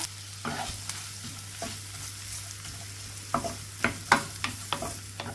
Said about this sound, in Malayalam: ബട്ടർ മെൽറ്റ് ആയതിലേക്ക് ഒരു മീഡിയം സൈസിലുള്ള സവാള ചെറുതാക്കി കട്ട് ചെയ്തിട്ട് ഇട്ട് കൊടുക്കുക